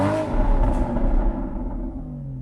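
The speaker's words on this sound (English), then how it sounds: "That exhaust note is just potent." A Porsche Boxster 981 with an FVD Stage 1 tuned exhaust revs hard, a loud deep growl heard from nearby that holds steady and then eases off.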